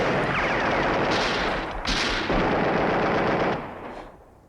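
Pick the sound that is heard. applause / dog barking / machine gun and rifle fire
machine gun and rifle fire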